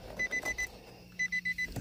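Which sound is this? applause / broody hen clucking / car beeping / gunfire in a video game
car beeping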